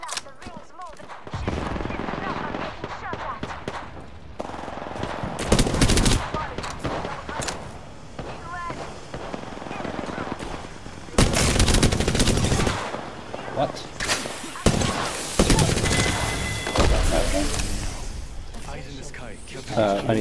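Rapid gunfire rattles through a video game shootout, with dense automatic bursts and single shots, loud and repeated throughout, broken by brief lulls.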